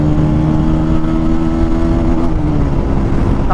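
A vehicle engine pulls steadily in third gear, a loud continuous drone with a stable pitch that climbs only slightly over a few seconds, heard close and with no talk.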